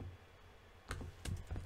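Computer keyboard typing, heard close and fairly quiet: a few scattered keystroke clicks in short bursts after a brief pause, with no speech over them.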